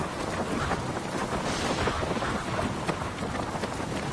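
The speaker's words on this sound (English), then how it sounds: "Storm just came in and it's coming down really hard." Heavy rain pours down steadily in a storm that has just arrived at a low-lying coastal area, a dense continuous hiss with wind, no voices heard.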